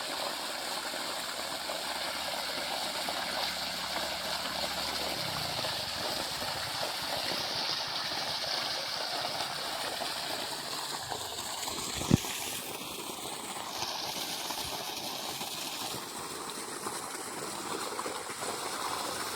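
A single-phase 3 HP farm motor pump discharges water in a continuous rushing gush, steady and moderately faint, with a faint low hum and one brief knock midway.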